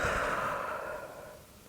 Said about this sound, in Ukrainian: пробуйте робити потихеньку вдих, видих